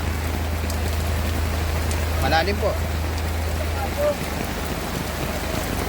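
Heavy rain hisses steadily over a flooded street by a marketplace in Kalentong, Mandaluyong City, a dense even wash with a low hum beneath; someone speaks briefly partway through.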